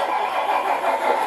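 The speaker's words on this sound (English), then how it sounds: "then of course we have our engine start" The sound unit of a Tamiya 1/14 Mercedes 1850L RC truck plays its engine start, a steady, loud mechanical roar that holds evenly throughout with no talk.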